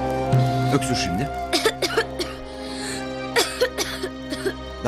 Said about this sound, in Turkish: Öksür şimdi.